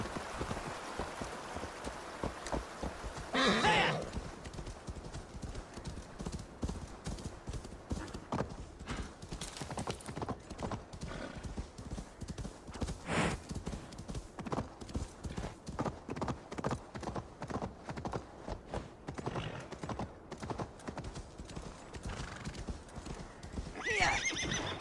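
A horse in the video game Assassin's Creed Valhalla trots with steady, rhythmic clip-clopping hooves over a rainy background, letting out a loud neigh early on and another near the end.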